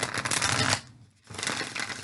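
Tarot cards riffled and shuffled by hand in a close, brisk burst, a brief pause, then another flurry of papery flicking.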